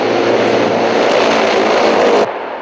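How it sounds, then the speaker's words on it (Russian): Loud broadband engine roar from Tu-160 heavy bombers, three flying in wedge formation during long-range aviation parade training, steady and close for about two seconds before dropping off abruptly. "Пройдет тройка Ту-160, это так называемый боевой порядок клин самолетов."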